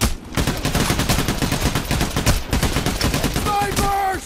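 Rapid gunfire in the heist shooter Payday: The Heist, dense volleys of close shots firing in quick succession for about four seconds, with a short gap midway and faint electronic beeps near the end, under occasional voices.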